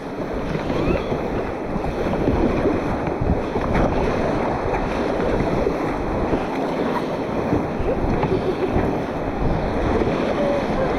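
Choppy water on the Sunwapta River slaps and churns around a paddled raft, a loud continuous wash of splashing mixed with heavy wind buffeting the microphone.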